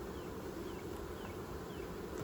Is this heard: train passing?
no